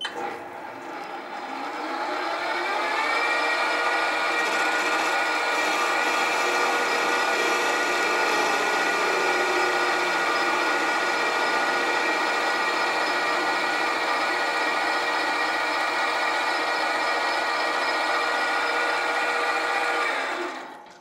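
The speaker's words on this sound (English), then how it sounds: "Face the end." Metal lathe facing the end of a cylinder sleeve workpiece held in a four-jaw chuck, the motor spinning up to a steady whine and running continuously, loud and close, with no talk.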